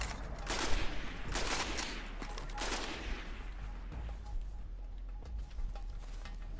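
Gunfire from a sniper rifle and other weapons in Destiny player-versus-environment combat, dense bursts of shots and explosions over a continuous rumble of game noise, strongest in the first few seconds, with faint talk underneath.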